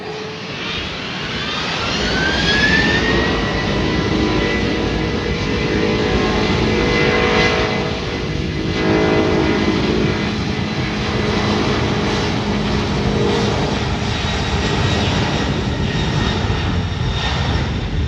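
A JetBlue Airbus A320 in Classic Spotlight livery rolls down runway 8 at San Juan for takeoff. Its jet engines give a loud, sustained roar with a rising whine that lasts throughout.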